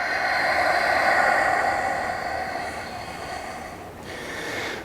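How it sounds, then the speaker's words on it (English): Steady, airy breathing during a gentle yoga flow, a long drawn-out breath close up that swells and then fades, with a brief dip near the end before it resumes; no talking. "Inhale deeply. And exhale deeply."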